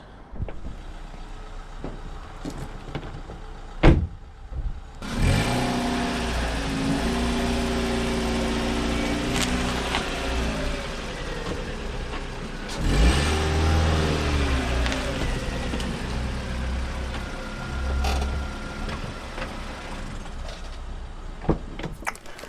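A car, not a small one, drives over a book packed for eBay shipping. The engine runs steadily and close throughout, revving up after a brief thump near the start, with scattered clunks and knocks as the wheels roll over the parcel.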